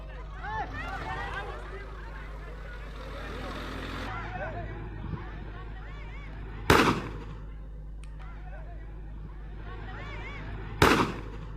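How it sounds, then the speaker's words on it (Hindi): Two sharp, loud gunshot-like cracks ring out about four seconds apart during a violent clash between two groups in a street in Ayodhya, over a constant low hum and raised crowd voices. "एक युवक फायरिंग करता भी नजर आ रहा है।"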